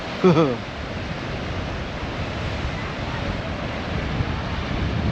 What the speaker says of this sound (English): But a little bit windy.